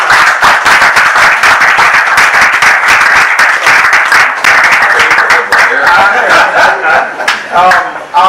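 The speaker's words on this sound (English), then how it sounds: "Please, let's give the chairman a round of applause." A loud, dense round of applause from an audience at a market gathering in Computer Village, Ikeja, sustained throughout and close to the listener, with a voice starting up near the end.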